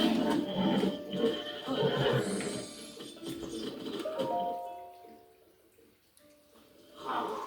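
A white horse in Zelda: Breath of the Wild whinnies in quavering bursts, with soft hoof and water-like effects around it and a quieter stretch of game ambience afterward.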